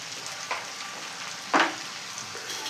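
Small cut potatoes with salt and turmeric fry together in a pan, giving a soft continuous sizzle with a couple of sharper bursts as the pieces are moved.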